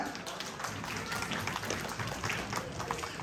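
Audience clapping for association committee members at an annual gathering of a Bangladeshi-American professional welfare organisation, a steady dense patter of hands filling the room throughout, with no speech over it.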